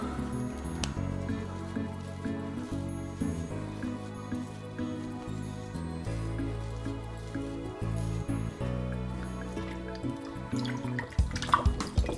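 A wheel of Port Salut cheese rinsed under running water from a tap, a steady trickling splash with drips and shifting tone, busier and splashier toward the end, no talking.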